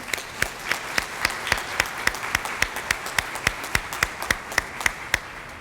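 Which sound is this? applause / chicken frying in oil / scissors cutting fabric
applause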